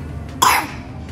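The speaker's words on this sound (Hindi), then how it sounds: "खांसी हो रही है" A single short cough from a child, sharp and close, standing out alone against a quiet room background.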